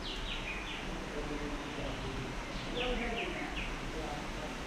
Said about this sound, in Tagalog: Kanina ko pa napapansin dito na parang mayroong mga ibon na nag-iingay.